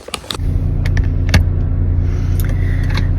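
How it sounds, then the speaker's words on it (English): Clicks and a door thump as someone climbs into a car before dawn, then the engine starts and settles into a loud, steady idle rumble with faint rattles. "Let's go get in the car."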